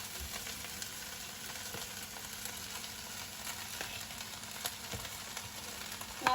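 Rice goes into a hot pan for chicken fried rice, giving a steady, close sizzle and crackle that fills the whole stretch evenly, with no talking.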